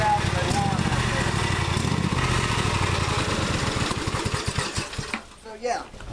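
A 1998 Husqvarna riding lawn mower runs close by with a loud, rough, throbbing engine drone that dips and falters near the end, and a voice is heard talking over it.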